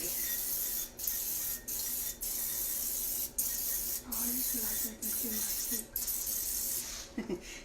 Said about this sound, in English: And this is just straight oil, and it still gives you that aerosol spray.